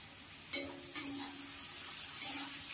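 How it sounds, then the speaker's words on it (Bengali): Onions frying in oil with a little sugar for prawn chaap give a steady sizzle, with two sharp stir or pan knocks near the start and a faint scrape later, no voices. "এটাকে আমি একটুখানি ভেজে নেব।"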